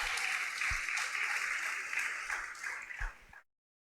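A church congregation bursts into sustained applause with cheering and shouts, a dense wash of clapping that holds steady for a few seconds before thinning out and stopping abruptly.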